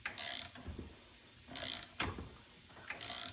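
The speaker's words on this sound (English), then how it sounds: "Pressing a pulley on." A ratcheting 13/16 wrench works a pulley press onto a power steering pump from a 3500 Impala, in three short bursts of rapid metallic clicking separated by quieter pauses, close by with no talk.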